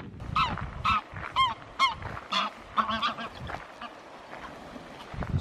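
Geese in East Iceland honk close by in a run of loud, repeated calls over the first three seconds, then fainter scattered honks follow against quiet outdoor background.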